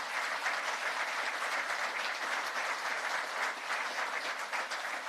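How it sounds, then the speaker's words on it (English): Sustained audience applause at a New England Council event in a historic hall, an even, dense roar of many hands clapping at a constant level, somewhat distant and without any voices on top. "Give a round of applause to St. Anselm, if you would, for opening up this historic place."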